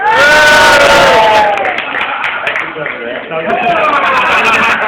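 A podcast audience cheers and whoops loudly in a sustained burst, with excited shouting voices that swell, dip slightly, then rise again.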